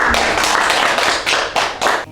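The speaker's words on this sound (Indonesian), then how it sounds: "Tepuk tangan buat kalian." A classroom of students claps for their answers and discussion, a short burst of dense, close hand claps with a few louder accents.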